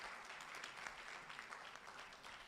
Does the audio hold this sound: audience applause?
yes